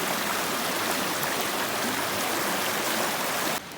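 A stream on the Appalachian Trail in Georgia rushes steadily over rocks in a broad, continuous hiss, close and unbroken, cutting off abruptly near the end.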